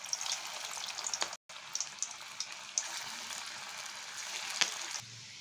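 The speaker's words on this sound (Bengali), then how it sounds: "তো এবার চলুন ঝটপট এগুলো দিয়ে ছোটো ছোটো করে পকোড়া ভেজে নেওয়া যাক" Potato peel pakoras sizzle and crackle in hot oil over a low gas flame, a steady close frying hiss broken by small pops and one brief gap.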